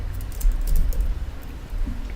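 Rapid, steady clicking of keys on a computer keyboard, close and moderately loud, with no talk over it.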